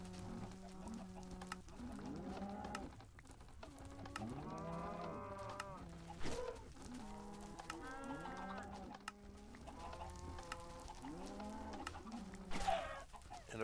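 Cattle mooing repeatedly alongside clucking chickens in a Minecraft farm with chicken and cow pens, the moos loud and overlapping through most of the stretch, with no talk.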